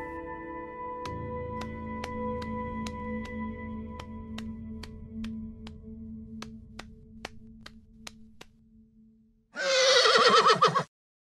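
A magic horse in a Vietnamese 3D animated fairy tale gives a loud, close, bright whinny near the end. Before it come a low sustained tone and sparse ticking sounds.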